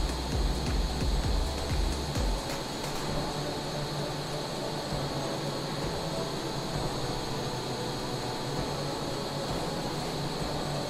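A Northrop Grumman B-21 Raider stealth bomber in Microsoft Flight Simulator holds a steady, even jet-engine roar with a broad hiss and a faint tone. A low rumble at the start then settles into a constant drone.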